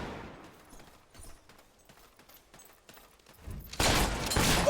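Gunfire in Fable III: scattered faint shots at first, then a sudden loud, dense volley of blasts that fills the last second, with no voices heard.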